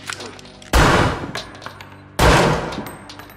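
Two loud, close gunshots from the film The Devil All The Time, spaced about a second and a half apart, each with a long echoing tail over low background sound.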